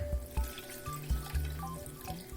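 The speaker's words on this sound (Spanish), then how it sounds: "le vamos a agregar una poca de agua" Water is poured into a blender jar over a piece of onion and a garlic clove, a close, gurgling pour with quick irregular glugs and splashes.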